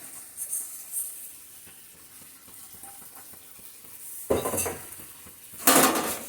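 Semai vermicelli fried in ghee in a pan, with a utensil scraping and clinking against the metal in quick strokes, a faint sizzle underneath, and a couple of louder sharp clatters near the end.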